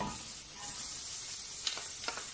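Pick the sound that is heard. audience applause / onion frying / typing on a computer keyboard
onion frying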